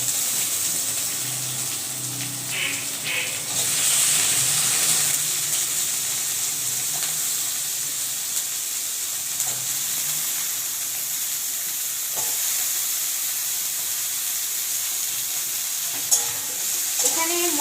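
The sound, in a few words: frying and stirring vegetables in a pan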